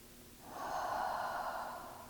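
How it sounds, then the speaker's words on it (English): One deep breath during a guided meditation, a soft, close airy rush that swells and slowly fades, heard alone. "let's begin with 3 really nice deep breaths"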